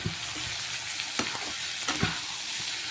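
Potatoes being stirred in a hot pan for green pea and potato kurma, a steady sizzle with a few soft scraping strokes of the spoon, close and unaccompanied by voices.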